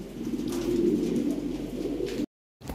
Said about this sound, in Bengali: এই যে এখানে এক পেয়ার কবুতর আছে রেড টয় লাহোরি